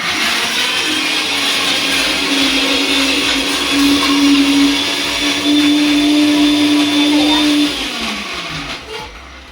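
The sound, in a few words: mixer grinder grinding ginger garlic paste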